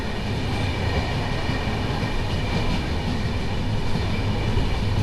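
Passenger train 19256 running from Mahuva toward Botad, heard from inside a carriage as a steady, loud rumble of wheels and wagon noise that continues without a break.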